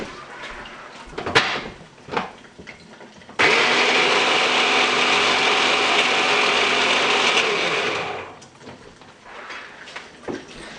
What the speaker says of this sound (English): I've just completed blending the onions.